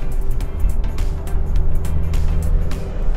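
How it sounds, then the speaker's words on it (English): 2018 Isuzu mu-X with the 1.9 liter RZ4E-TC BluePower diesel pulling hard after a downshift to 4th gear at around 80, a steady close engine drone under road and wind noise, with no talk. "So let's downshift to, let's say, 4th gear and see how it accelerates."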